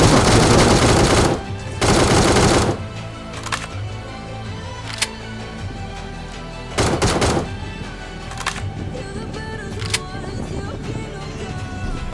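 Automatic gunfire from a battle royale mobile shooter, PUBG-style with an AWM sniper rifle in play: loud sustained bursts at the start, then scattered sharp single shots and short bursts over a lower background.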